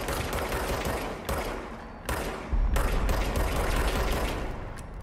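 Bursts of rapid gunfire from a weapon in the video game Control, several loud volleys with brief pauses between them, close and dominant, with no voices over them.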